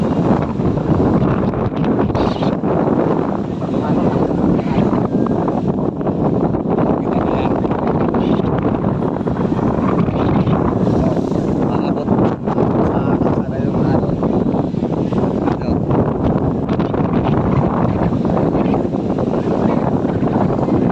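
Strong, steady wind roars across the microphone with a broad rushing wash of sea waves beneath, constant and loud throughout.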